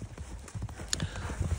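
A horse galloping, heard as quick, rhythmic clip-clop hoofbeats that are fairly close but subdued, lasting about a second and a half.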